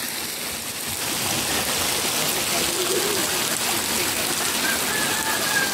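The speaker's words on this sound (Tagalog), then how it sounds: "Kaya lang maulan" Steady rain falls outdoors at Mainit Hot Spring in Nabunturan, Davao de Oro, a dense, continuous hiss of drops that holds evenly for the whole stretch without any voices.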